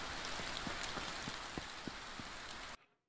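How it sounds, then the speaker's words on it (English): Heavy rain pours steadily in the medieval survival game Medieval Dynasty, a dense hiss with scattered droplet taps that cuts off abruptly near the end. "And it is downpouring hard."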